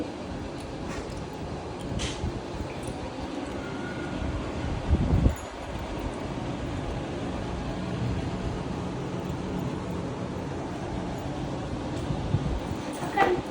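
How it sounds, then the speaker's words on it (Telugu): Wind blowing outdoors in a home setting, a steady broadband rumble and rustle that runs throughout, with a brief louder gust in the middle and faint speech-like sounds underneath. "అక్కడ చూడండి, బయట మొత్తం గాలి వస్తుంది."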